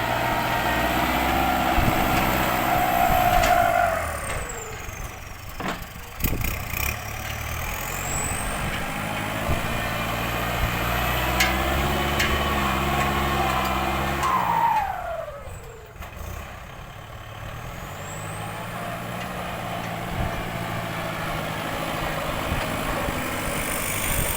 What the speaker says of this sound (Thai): เสียงท่อนี่ ดังไพเราะเพาะพิงเหลือ เกินครับ